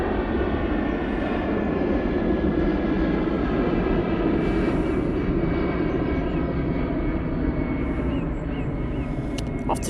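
An EasyJet airliner takes off from Manchester Airport for Geneva in low visibility, a loud, steady engine roar holding continuously without a break.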